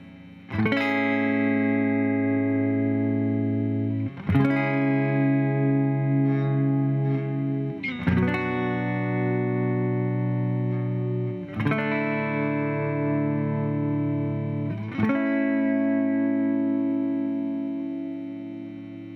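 A 2017 Fender American Professional Jazzmaster or Jaguar electric guitar on the neck pickup plays sustained chords, each ringing for several seconds before the next strum, with a warm tone and some effects.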